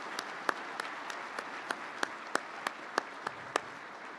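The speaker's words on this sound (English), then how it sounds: "Let's give them all a round of applause." Sparse, faint hand claps from a small audience at a farm bureau event tap out in a loose, regular beat over a quiet room hum.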